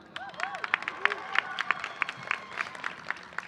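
Audience applause at a university new student convocation, many hands clapping in a large hall with a few sharp nearby claps standing out over a steady, moderately distant patter.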